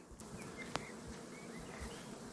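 Honeybees hum at an apiary while foraging on motherwort, a steady close buzzing drone that holds evenly throughout with a brief sharper buzz as one flies past the microphone.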